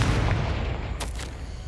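A Confringo blast spell in Hogwarts Legacy, a loud close booming explosion that rumbles low throughout, with a brief crackling burst near the end.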